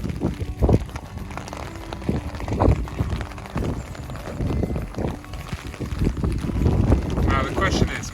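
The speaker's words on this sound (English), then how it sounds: "now it's extremely bloody windy" Strong gusting wind buffeting the microphone outdoors among olive trees in Andalusia, rumbling in uneven surges while people talk over it.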